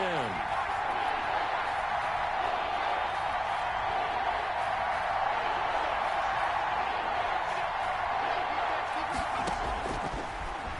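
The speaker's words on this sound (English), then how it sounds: "Crowd getting in it a bit already." Steady roar of a stadium crowd in a Giants vs. Buccaneers American football video game, a dense continuous wash of cheering held at even loudness throughout, with a commentator speaking over it.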